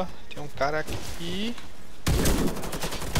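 Gunfire in the shooter Warface during a team deathmatch on the Hangar map, with a USAS-12 shotgun in play. Someone talks briefly, then a loud, rapid burst of shots fills the final second.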